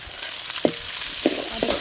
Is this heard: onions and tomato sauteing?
yes